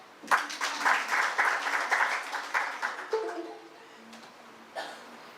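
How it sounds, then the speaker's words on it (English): An audience at a science communication workshop clapping for a few seconds, a moderate burst of scattered hand claps that thins out, with a cough and brief voices toward the end. "Claps."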